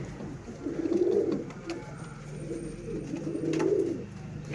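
Girebaaz pigeons coo softly at close range, two low rolling coos a few seconds apart over faint background noise.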